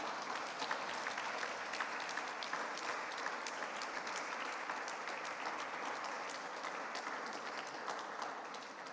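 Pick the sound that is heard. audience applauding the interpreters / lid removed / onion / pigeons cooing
audience applauding the interpreters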